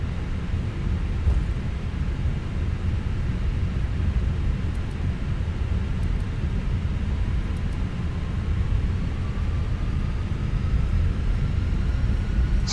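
An Airbus A320 jet taking off at night in Microsoft Flight Simulator, a steady loud engine roar and low rumble holding throughout, with a faint rising whine over it.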